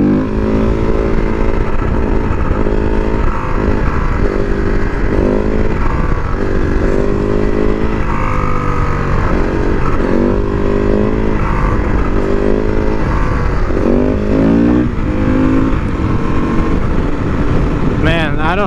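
A Husqvarna SMR 510 supermoto engine revs hard and loud through first- and third-gear wheelies, its note rising and falling in repeated surges close to the microphone, with a rider talking over it.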